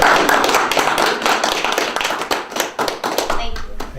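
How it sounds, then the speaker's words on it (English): Audience at a village council meeting claps in a close, dense burst that thins toward the end, with voices talking over the applause. "I think that we owe them at least an applause"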